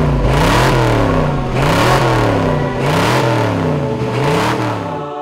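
A six-wheel-drive off-road vehicle with a 5.7 liter V12 engine revs loudly and close by, rising and falling in repeated surges of throttle over a steady rumble.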